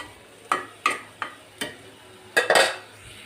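Sweet pumpkin pieces dusted with turmeric powder are stirred in a pan, giving five or six distinct scraping clinks of a spatula against metal, the last few louder and closer together, over a quiet background.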